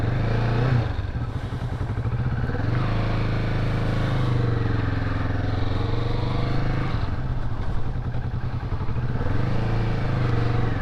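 Kawasaki Vulcan S cruiser motorcycle engine running steadily and loud for about eleven seconds, the pitch dipping and rising as the throttle is worked, with no speech.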